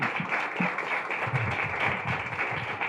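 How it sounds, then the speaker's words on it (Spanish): An audience at a panel discussion on sustainability communication claps warmly: a dense, even wash of many hands for about three seconds with no talking over it. "Un aplauso, por favor"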